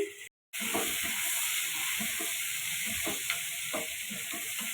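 Sliced onions fry in oil with whole cumin, tomato and salt in a wok for potato do piyaji, giving a steady close-up sizzle with faint scrapes of stirring, after a brief silent gap at the start.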